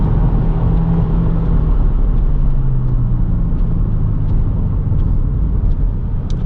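Inside a 2022 Subaru WRX with its 2.4-liter engine and six-speed manual, a steady loud rumbling engine drone with a rising, revving tone carries through the cabin while accelerating on a wet Road America track, with no talking.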